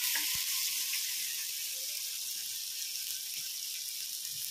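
Chopped tomatoes frying in oil in a village-style kitchen while cooking okra and toor dal, a soft steady hiss of sizzling with a faint knock near the start.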